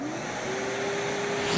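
A suction machine unclogs a toilet, its steady motorised whine and airy rush running continuously with a faint rising tone, loud and close throughout.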